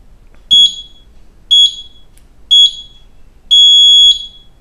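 SCC 20 up-down timer clock sounding its ten-second warning: four loud, clear electronic beeps, the first three short and evenly spaced, the last held longer, with silence between them.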